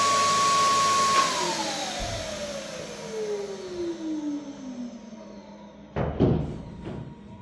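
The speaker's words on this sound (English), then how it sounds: "To be fair, I can't fault this sprayer" A handheld paint sprayer, used on a campervan bed frame during a Transit conversion, whirs steadily and loudly, then winds down in falling pitch, followed by a few soft knocks and clunks.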